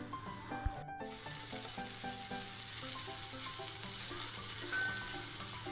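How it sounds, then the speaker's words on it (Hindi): Steady sizzling of garlic sautéing in a little hot oil, close and continuous, with a brief utensil clack near the start. "अब मैं इसमें सबसे पहले लहसुन डाल के उसको अच्छी तरह सोते कर लूँगी"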